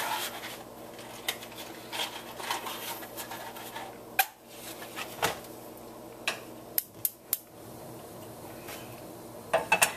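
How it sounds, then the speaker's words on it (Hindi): Kitchen clatter of a pan being set on the stove for tempering spinach raita, with sharp metallic clinks and scrapes scattered over a quiet room background, no talking. "इसलिए हम पैन चढ़ा देते हैं"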